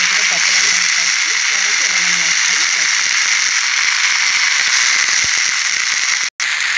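Tender tamarind leaves fry in hot tempering oil alongside dals and spices, giving a loud, steady sizzle and hiss close up, with light crackling throughout.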